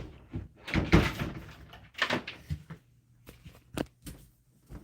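Someone checks a door at night, making a few close knocks and thumps as it is handled, opened or shut, with brief rustling and clatter in between and no talking.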